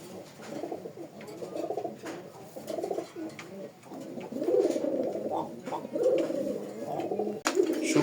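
Pair of deshi Rajgolla pigeons cooing close by in repeated soft, throaty rolling phrases that continue steadily, with faint movement noise between calls.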